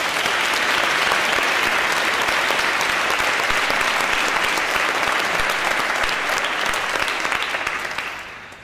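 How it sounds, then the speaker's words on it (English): A graduation ceremony audience breaks into loud, sustained applause, thick continuous clapping filling the room before tapering off at the very end. "can we please have a round of applause"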